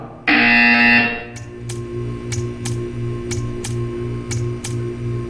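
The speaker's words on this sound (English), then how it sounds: "When you hear the buzzer, stare at the art." A loud electronic buzzer from the video game Portal 2 blares for about a second, then a quieter series of regular ticking pulses continues over a low hum.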